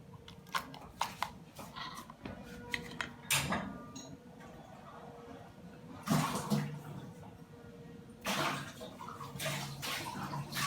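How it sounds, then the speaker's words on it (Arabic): Water is poured into ground tomato during home food preparation: a few close splashing, gushing bursts separated by quieter handling noises, with no talk. "ممكن هنا نزيد شي شويه ديال الماء"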